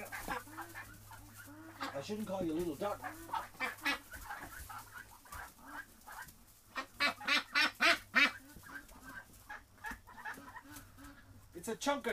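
Jumbo Pekin ducks call in short bursts of honking quacks, a cluster of loud repeated calls partway through, nearby, with a person talking in between.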